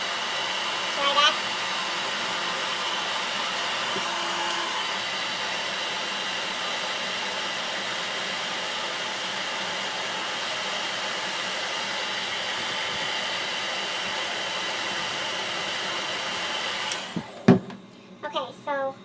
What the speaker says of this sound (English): Take your blow dryer and dry